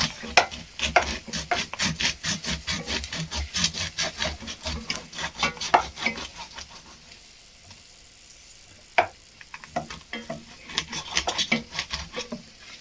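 A knife slicing a lobster in half for a budget lobster thermidor, heard as close, rough scraping and crunching strokes through the shell, with a quieter lull before the rasping resumes.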